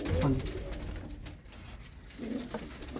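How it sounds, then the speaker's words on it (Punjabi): Old desi pigeons give low, soft coos up close, one at the start and another near the end, over a rough, noisy background. "ਇਹ ਕਬੂਤਰ ਆ ਕਬੂਤਰਾਂ ਵਾਂਗੂ ਆ"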